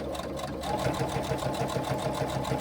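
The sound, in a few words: sewing machine stitching a bag handle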